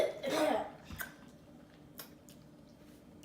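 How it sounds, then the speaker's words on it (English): A cough at a shared meal, with a loud burst near the start, a few sharp short sounds after it and a quiet room in between. "You go cough somewhere else, try."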